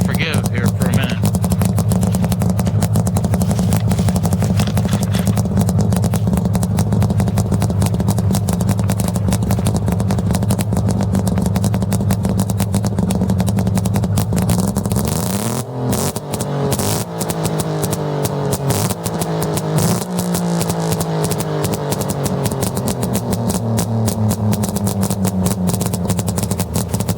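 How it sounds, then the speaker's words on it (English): A DKW 1000S engine in an Auto Union Silver Arrow replica runs loud and close, with a rough, clattering idle. Partway through it climbs through a few revs, under steady handling and wind noise. "I'm going to set this thing down on the ground and rev it up a couple times so you can hear it"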